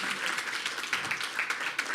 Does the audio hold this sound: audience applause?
yes